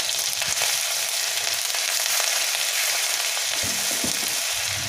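Crushed, grated fresh ginger hits hot oil in a pan for samosa filling, giving a bright, constant close sizzle with faint crackles and light stirring.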